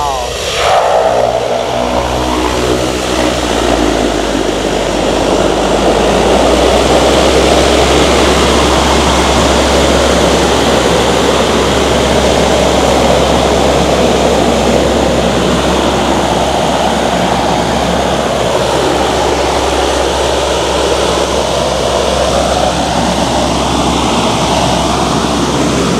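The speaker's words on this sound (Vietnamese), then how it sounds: "cảnh cất cánh của chiếc Sea Airplane này nhá" Seaplane taking off from the water near Tuan Chau on a trip toward Cat Ba, its propeller engine a loud, sustained roar with rushing spray that holds steady throughout, someone speaking over it.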